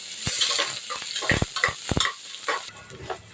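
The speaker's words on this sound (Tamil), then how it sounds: "அப்புறம் பெரிய வெங்காயம் 2 எடுத்துக்கிறேன், 2 பச்சை மிளகாய் எடுத்துக்கிறேன். நல்லா வதக்கிக்கலாம்" Sliced onions and green chillies sautéing in a pan for vegetable biryani, with an ongoing soft sizzle broken by several clattering stirs of a utensil against the pan, close and moderately loud.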